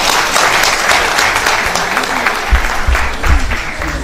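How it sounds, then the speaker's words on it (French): A festival launch crowd in Abidjan applauds, a dense, loud, continuous clapping that fills the whole moment, with a few faint voices underneath. "je voudrais qu'on s'applaudisse très très fort"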